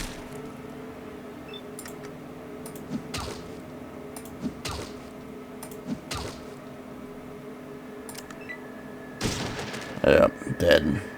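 Shotgun fire in Fallout 2, a handful of separate sharp blasts spaced a second or two apart over a low background hum, ending in a cluster of louder hits, with speech nearby.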